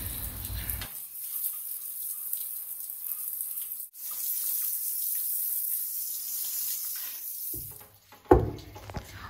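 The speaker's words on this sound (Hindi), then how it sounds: "बस पानी से धो लूँगी और बिल्कुल चकाचक हो जाएगा" Water pours steadily over a freshly cleaned toilet in a home bathroom, a loud rushing splash that cuts out for a moment, then resumes and ends in a short clatter.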